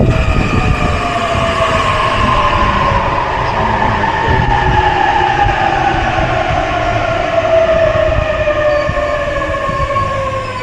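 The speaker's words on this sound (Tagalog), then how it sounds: "Ito na yung train namin." A train pulls into a station in Japan with a loud, continuous rumble and rail screech, steady metallic tones gliding slowly downward as it slows, close by and with no voices.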